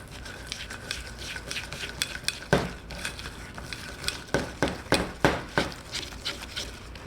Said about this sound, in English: And then just whisk it again like we did before.